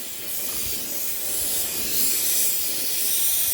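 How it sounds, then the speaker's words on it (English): Steady roaring hiss of a torch flame heating a crucible to melt borax flux for seasoning before metal casting, a continuous broadband rush holding level throughout with no talk. "I'm using the flame to try and push that borax out and over the top of that rim"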